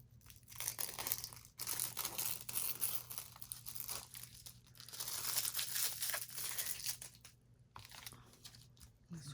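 Paper backing peeled off a sticker from a digital-kit paper craft, a dry crinkling, tearing rustle that runs in close bursts for several seconds with short pauses between pulls.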